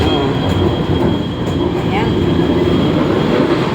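An LRT train runs along an elevated rail line near Titiwangsa station, a steady close rumble with a faint wheel squeal, while someone speaks briefly over it.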